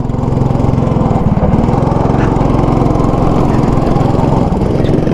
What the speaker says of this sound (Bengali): এটা কি 2 স্ট্রোক ইঞ্জিন নাকি?